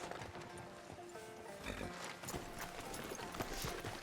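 Rhythmic horse hooves clip-clopping at a steady walk in Red Dead Redemption 2, close by, over a low ambient background with faint indistinct voices.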